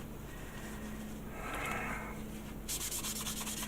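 Sandpaper rubs down a rough plastic part of a 1/600 Star Trek Enterprise model kit, a close, faint scraping with back-and-forth strokes and faster scratchy bursts near the end.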